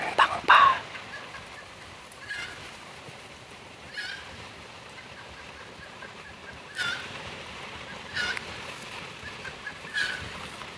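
Wild junglefowl call from a distance in open forest, with a loud crow at the start and then several short, faint calls spaced a couple of seconds apart over a quiet background.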